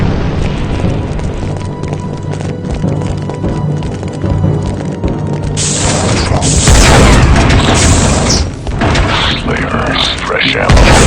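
In Star Wars Republic Commando, a placed explosive charge detonates with a deep, loud boom and rumbling blast that rolls on amid combat noise and gunfire, with soldiers' voices talking before and around it.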